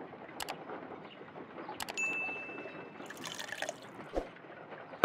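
Water is poured in a Sherlock Holmes: Crimes & Punishments game scene, heard as a few distinct drips and splashes with a brief trickling pour, fairly quiet and close, without speech.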